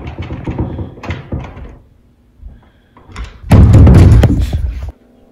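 A door thuds and rattles a few times, then a louder burst of creaking and banging as it swings open, with brief quiet gaps between.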